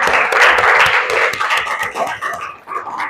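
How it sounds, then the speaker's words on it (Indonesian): Classroom applause for group 2, a dense burst of many hands clapping at once, loud and close, thinning toward the end. "beri tepuk tangan dulu untuk kelompok 2"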